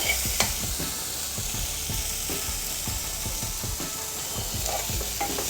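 A spoon scrapes and stirs food frying in a pan after turmeric is added, with rhythmic clinks and scrapes over a constant soft sizzle.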